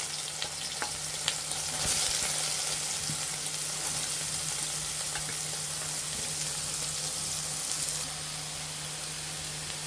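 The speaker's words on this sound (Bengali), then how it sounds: "আমরা এভাবে কিছুক্ষণ সয়াবিনগুলো ভেজে নিব" Soybean chunks fry in hot oil with a steady, continuous hiss and crackle held close for about ten seconds, a few faint pops on top and no voices.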